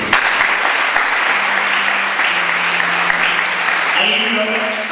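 Congregation in a church applauding during a Sunday worship service, dense sustained clapping filling the room, with a voice calling out over it and sung tones rising near the end.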